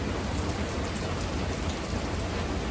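Rain drums on a metal roof on a rainy day, a dense, even hiss of countless drops pattering without pause, close and steady throughout, with no talking.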